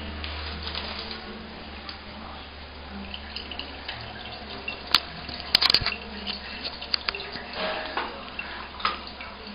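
Water runs from a tap in a bathroom while a small bird bathes, a low steady flow with scattered splashes and fluttery bursts in the middle and later part.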